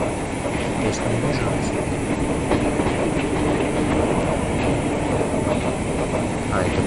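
An electric train runs along the track as heard from inside the driver's cab, with a loud, unbroken rumble and faint rhythmic clicks throughout.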